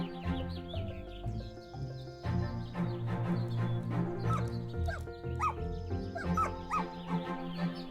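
Dogs bark and yip repeatedly from a hand-drawn cat adventure game, mid-distance, layered over a steady game music bed with birdlike chirps, with occasional whimpers between the barks.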